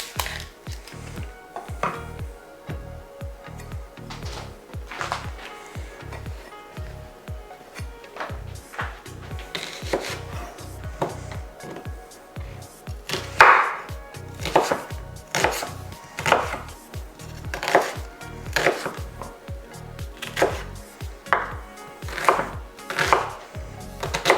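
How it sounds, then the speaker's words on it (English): An onion being chopped into pieces with a knife on a cutting board, giving a long run of crisp, steady knife taps close by, speeding into quicker bursts partway through, no talking. "you can cut these pieces up as big or as small as you'd like"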